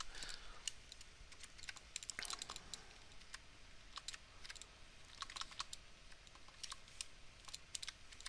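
A computer keyboard clatters with quick, irregular bursts of light key clicks, close and fairly quiet, alone with no talking.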